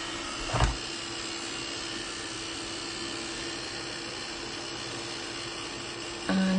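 Heat tool blowing continuously to dry soft matte gel on a vintage-style craft cabinet, a steady loud whooshing drone from start to finish with a short knock near the beginning and a click near the end.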